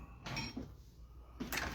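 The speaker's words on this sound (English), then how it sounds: "I should probably put that drawer back down" A toolbox drawer holding about 5,000 screws is set back down, giving two quick rattling clinks of metal a second or so apart, close and fairly loud.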